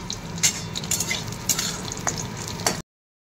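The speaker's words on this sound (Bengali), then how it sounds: "গরম হয়ে গেছে, বড়িগুলো ভেজে নেব" Bori lentil dumplings frying in hot oil, a close, steady sizzle punctuated by a few sharp clinks and scrapes of a utensil in the pan, ending abruptly.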